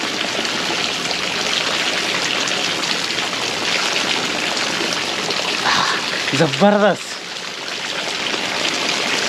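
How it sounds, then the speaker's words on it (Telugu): Water streaming steadily down a hillside near the Meghalaya–Assam border, a continuous broadband rush heard up close, with a short burst of talk and a brief tonal sound near the end. "అలా కొండ మీదకి వెళ్ళి ఇలా పారుతూనే ఉన్నాయి నీళ్ళు."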